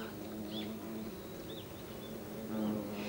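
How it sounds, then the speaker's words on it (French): Japanese honeybees at their hive vibrating their wings against an attacking wasp, a steady low buzzing drone with a few higher whining passes of flying insects, continuous and fairly faint. "Lorsque les abeilles entendent les battements d'ailes de la guêpe, elles secouent leur corps et font vibrer leurs ailes pour émettre un bruit qui effraie l'ennemi"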